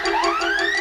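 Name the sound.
alarm going off in the Smurf village, cartoon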